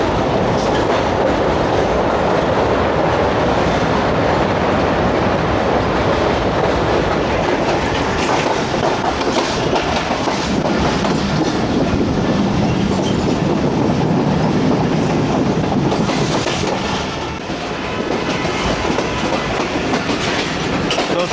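The Tezgam passenger train runs on rails near Malir in Karachi, giving a loud, steady rumble with rhythmic clickety-clack from the wheels. The noise stays continuous and close throughout, with no talking.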